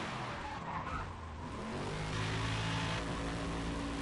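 A Ford Mustang Boss 302 engine drones steadily in the racing game Need for Speed World while tires squeal and skid, the sound loud and constant across the whole stretch.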